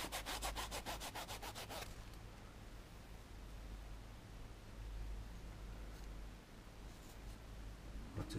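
A sponge rubbing scratches off a part from a 1/48 Airfix Hawker Fury plastic model kit, a fast rhythmic scrubbing at first, then a steady soft abrasive hiss, close and quiet.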